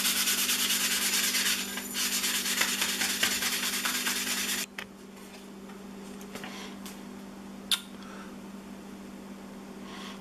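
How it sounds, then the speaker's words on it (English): Steady, close-up rasping of sandpaper rubbed by hand, with short pauses, then quieter intermittent scraping strokes. "I will be sanding the inside and the outside."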